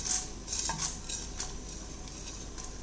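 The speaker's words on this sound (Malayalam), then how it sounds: "ഇതിലേക്ക് നമുക്ക് കടലപ്പരിപ്പ് ഇട്ട് കൊടുക്കാം." Chana dal goes into a hot pan and sizzles faintly while a metal spoon scrapes and clinks against it in a few quick, uneven stirring strokes, close by.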